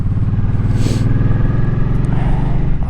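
A motorcycle engine drones steadily at close range with a low, throbbing rumble and wind noise, as if heard while riding at night in cold air.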